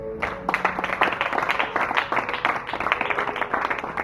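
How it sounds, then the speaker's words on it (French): A church congregation claps together in a steady rhythmic burst of applause that fills the room, dense and continuous for several seconds. "Acclame pour le Seigneur"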